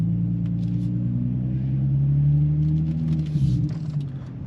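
An Infiniti G35 fitted with a Vibrant resonator rumbles close by with a deep, steady exhaust drone that swells slightly, then dips near the end with a few brief crackles, and no talking.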